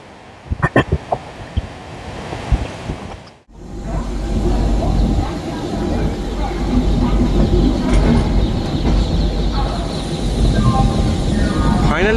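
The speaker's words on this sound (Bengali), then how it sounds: "ফাইনালি আমাদের ট্রেন, নতুন এলএইচবি ট্রেন প্রবেশ করলো হাওড়া স্টেশনে" A new LHB passenger train pulls into Howrah station after a few sharp clanks, then rumbles on as a loud, sustained rolling roar with rail noise and occasional squeals, and some speech is mixed in.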